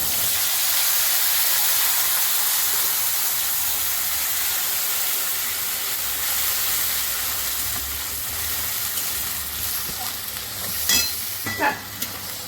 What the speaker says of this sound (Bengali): তো তেলের মধ্যে গোটা গরম মশলাটা দিয়ে তার মধ্যে পেঁয়াজের পেস্টটা দিয়ে দিয়েছি